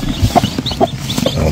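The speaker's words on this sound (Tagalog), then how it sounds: "So, yan ang mga sisiw niya." Chicks peeping and cheeping around a mother hen on a farm, with short repeated calls at close range and no talking.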